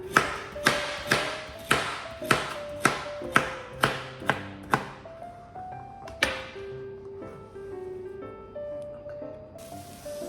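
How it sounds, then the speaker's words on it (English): Vegetables such as onions, carrots and garlic chopped roughly on a board for a katsu curry, a run of about a dozen sharp, evenly spaced knife taps, close and fairly loud, slowing and thinning out partway through, with tonal music underneath. "So peel and chop all your veg. Just completely roughly."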